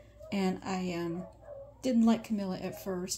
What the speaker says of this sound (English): Of course, the dogs decide to bark right as I'm going to do this.